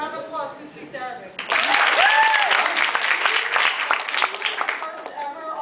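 An audience at an Arab American comedy Q&A bursts into loud applause with cheering voices, starting after a few seconds of talk and holding strong before fading back toward speech.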